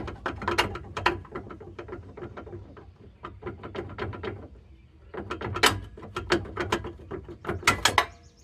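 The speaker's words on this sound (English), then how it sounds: "See if we can wiggle the bottom bolt out." Long bottom bolt being wiggled out of a rear shock on a 2002–2009 Chevy Trailblazer, giving close metallic rattles, clinks and ratcheting knocks in uneven bursts with a short lull midway; no talking.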